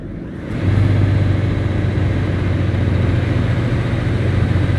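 A long-haul truck in Euro Truck Simulator 2 rolls through a factory area, its engine settling into a loud, steady low drone that swells up after a quieter first moment and holds evenly throughout.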